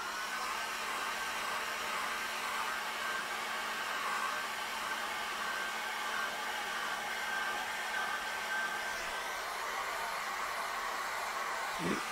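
A hair dryer blows on wet acrylic paint on a painted Christmas card, a steady close whooshing roar with a faint motor whine, running unbroken and alone throughout.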